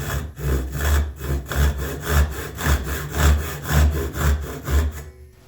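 A hand saw cuts through wood clamped in a vise for spice rack rails, about ten steady back-and-forth strokes at an even rhythm, loud and close, stopping abruptly at the end.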